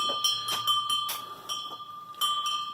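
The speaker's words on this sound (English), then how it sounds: "I have wind chimes in my craft room." Wind chimes hanging in a craft room ring with bright, sustained metallic tones, struck in several clustered tinkles at a moderate, fairly close level, with no talking.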